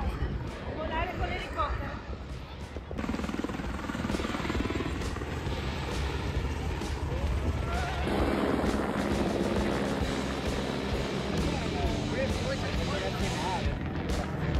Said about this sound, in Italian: Sei pronta a andare sull'elicottero?